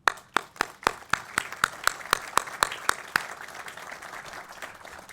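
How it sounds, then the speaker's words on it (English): Applause at a ribbon-cutting ceremony for the Locklyn Apartments in Olympia Fields: a dozen sharp, distinct claps at first, spreading into a steady wash of clapping from the gathered crowd, with no talking. "please, another round of applause."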